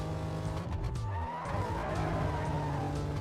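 Car engines roar and tires skid and squeal in the racing game Need For Speed Carbon, a steady loud mix of revving motors and drifting screeches with no talk over it.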